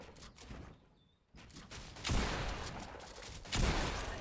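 Gunfire in a competitive shooter arena match, heard as dense bursts of shots with a brief quiet gap, then sustained loud firing and another heavy burst near the end, with no talking.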